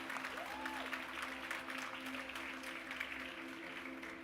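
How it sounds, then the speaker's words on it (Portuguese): Church audience applauding at a worship service, a steady moderate wash of clapping with a faint background tone underneath. "Aplauda ele em nome de Jesus."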